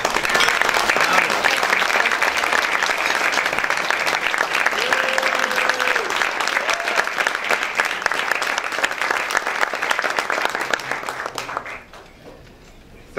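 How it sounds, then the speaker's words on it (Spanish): Loud, sustained applause from an audience honoring women at a ceremony, dense and even throughout before fading out abruptly near the end. "les pido a todas ellas ponerse de pie para recibir un fuerte aplauso el día de hoy"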